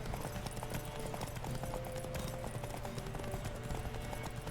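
Horse hooves clip-clopping at a steady gallop in The Witcher 3, a continuous rapid rhythm under a low rumbling game soundscape, no voices.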